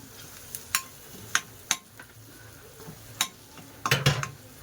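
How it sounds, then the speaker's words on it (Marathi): Red chili powder and ground coriander-cumin being sautéed for dal khichdi, with a spoon scraping and clinking against the pan in scattered sharp strokes over a faint background sizzle, the strokes bunching into a cluster near the end; no voices. "थोडंसं तिखट, लाल तिखट। चांगलं परतवून घेऊ।"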